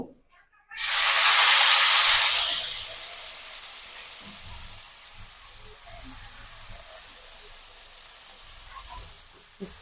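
Bitter gourd and potato drop into a hot pan of oil with a sudden loud sizzle that settles after a couple of seconds into a quieter, steady frying hiss.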